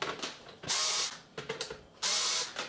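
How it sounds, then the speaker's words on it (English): A screwdriver, apparently powered, removes screws from a Pioneer DDJ-RX DJ controller: two bursts of loud buzzing whir with short clicking and rattling between them, close by, with no speech. "Now you need to remove all of the screws."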